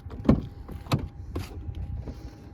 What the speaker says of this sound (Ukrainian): Автомобіль має 4 склопідйомника